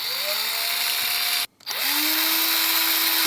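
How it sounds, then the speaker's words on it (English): A power drill bores screw holes into a homemade joystick case, whining steadily up close, cutting out briefly midway, then spinning back up to a sustained higher-pitched whir. "I'm just going to drill some screw holes here to put some screws to completely mount this."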